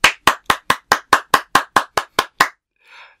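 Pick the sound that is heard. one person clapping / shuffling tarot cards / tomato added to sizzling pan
one person clapping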